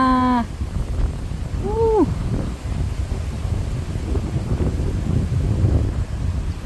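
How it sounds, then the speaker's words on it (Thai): Strong wind gusts across an outdoor vegetable garden in summer, a steady broad rumble of wind buffeting the microphone throughout, with a few brief tonal calls early on. "แล้วลมแรงด้วยเนาะวันเนี้ย วันนี้ลมนะคะ ลมมากจ้า"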